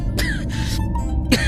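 A man in a Hindi horror audio drama, jolted awake, coughs in loud, harsh bursts: one short cough, a longer rasping fit, then another sharp cough close by.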